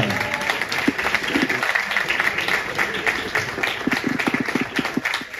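An audience at the XXI Cueca World Championship competition night in Pamplona applauds continuously, a dense crowd clapping with occasional louder claps and a steady hum behind it.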